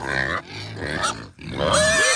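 Pigs on a homestead grunt in short, close, rough bursts during a move. Several snorting grunts are separated by brief pauses.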